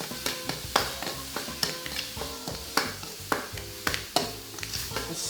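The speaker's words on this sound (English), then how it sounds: "Fry that pork." Pork sizzling in a hot wok for a street-food Dan Dan Mian, a steady fry punctuated by regular metallic scrapes and stirring knocks of the spatula.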